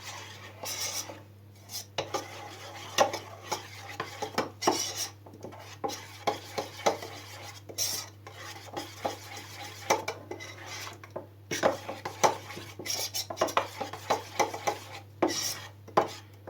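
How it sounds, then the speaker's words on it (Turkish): Ground peanuts being stirred into a homemade chocolate filling in a bowl, with a spoon scraping and clinking against the sides in irregular, close taps over a steady low hum. "toz fıstığımı ilave edeceğim. Evet bunu da şu şekilde karıştırıp"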